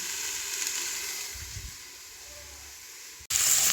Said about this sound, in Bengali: বাঁধাকপি, কুমড়ো দিয়ে একটু ভাজে দিচ্ছি